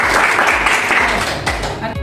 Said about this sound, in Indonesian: baru tepuk tangan.